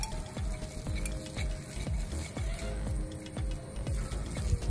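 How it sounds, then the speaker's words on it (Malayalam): Peanut butter cake batter with a tablespoon of oil is stirred in a bowl with rhythmic thick, squelching strokes that repeat steadily and sit fairly close. "ഒരു ടേബിൾ സ്പൂൺ എണ്ണയും കൂടെ എടുത്ത് നമ്മൾ ആഡ് ചെയ്ത് കൊടുക്കാം. നല്ലപോലെ മിക്സ് ചെയ്ത് കൊടുക്കാം."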